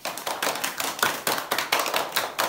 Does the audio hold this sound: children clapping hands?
yes